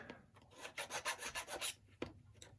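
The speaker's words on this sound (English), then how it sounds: "It's a 600 grit automotive sandpaper." Sandpaper of 600-grit automotive grade rubs over a part of a Roundhouse 0-6-0T model steam locomotive, giving about a dozen quick rasping back-and-forth strokes, close and quiet, with no speech.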